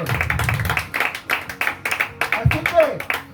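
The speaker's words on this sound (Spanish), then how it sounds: "Dale una ofrenda fuerte de palmas al Señor." Church congregation clapping hands rhythmically in a fast steady beat, close and loud, while a preacher's voice speaks over it.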